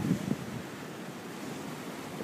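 Ocean waves where lava from a volcano meets the sea near Hilo, a steady low roar of surf mixed with wind buffeting the microphone, with no voices.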